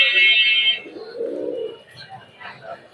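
Pigeons cooing at a busy pigeon market in Khalishpur, Nayabati: a low, throaty coo rises close by amid bird chatter, with a bright high tone at the start and other market sounds around.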